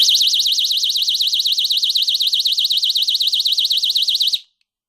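A remote-controlled infrared motion detector alarm wails loudly in a rapid warbling siren tone, continuous and close, then cuts off abruptly.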